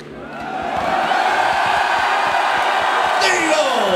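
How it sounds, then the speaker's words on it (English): A large concert crowd at a live show in Stockholm roars and whoops in a sustained, loud cheer that swells quickly and holds steady throughout. "I want to hear a big cheer now."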